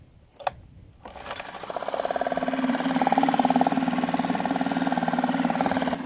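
A small 2.5 hp outboard motor runs at idle with no cowling, starting after a brief click and settling into a steady, loud, close buzzing drone.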